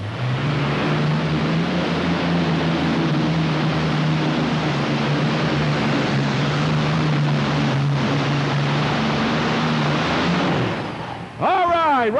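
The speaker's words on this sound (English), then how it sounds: "Let's see if those Allison aircraft engines are all sync, working good." A tractor-pulling machine powered by several Allison aircraft engines roars loud and steady at a 1997 Louisville, Kentucky pull, a sustained deep engine drone that holds for about ten seconds before cutting off abruptly.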